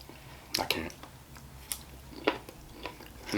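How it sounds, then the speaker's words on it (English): Broccoli is chewed close to the mic, giving several sharp, crisp crunches spaced irregularly between quieter mouth sounds, with no talk over them. "You hear that crunch from the broccoli?"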